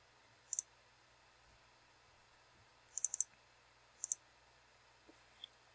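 Sharp, faint computer mouse clicks in a quiet room: a single click, then a quick cluster of three, another pair and two softer clicks near the end.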